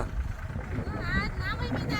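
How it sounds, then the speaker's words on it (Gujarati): An old Bhumiputra tractor working a groundnut field gives a low, continuous engine rumble beneath a voice talking over it throughout. "ખરેખર ટ્રેક્ટર ની જમાવટ કઈક ઓર જ છે જો આ છે ટ્રેક્ટર ભૂમિપુત્ર"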